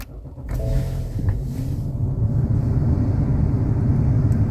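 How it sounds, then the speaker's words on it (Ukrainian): A Ford car engine cranks briefly, then catches and settles into a steady, close idling rumble. "Так, запалювання є і заведемо авто."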